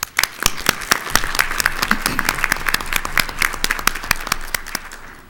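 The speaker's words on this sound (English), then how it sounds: "So let's give them a round of applause." Steady applause from a modest audience at a business meeting honoring committee members, with crisp individual claps clearly audible, moderately close and sustained at an even level for the full stretch.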